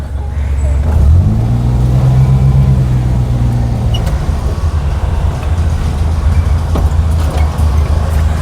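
A 2000 Maruti Omni van's engine drones in first gear on the road, a loud steady low rumble that rises in pitch as it revs, with road and body noise throughout.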